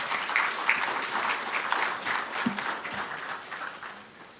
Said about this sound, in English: Shall we please receive him with an applause?